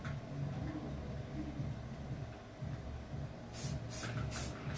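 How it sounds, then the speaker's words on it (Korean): Hairspray sprayed in a few short hissing bursts onto styled, pinned-up hair, coming near the end after steady low background noise. "이때 이제 스프레이를 살짝 뿌려서"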